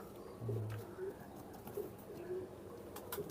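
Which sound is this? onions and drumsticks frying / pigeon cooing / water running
pigeon cooing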